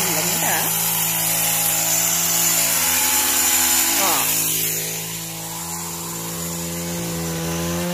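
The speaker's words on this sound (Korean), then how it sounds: "이렇게 나무를 다듬어주고 있습니다" A power tool trims overgrown flowering trees in a farm garden, running as a loud, close, continuous motor drone that dips slightly partway through.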